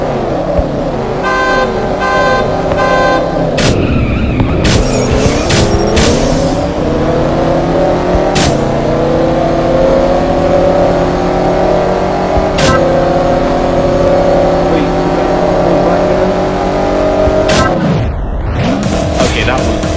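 A Pagani Huayra race car in CSR Racing revs and accelerates through several gear shifts, engine pitch climbing and dropping at each change, loud and continuous, with a game horn tone early on.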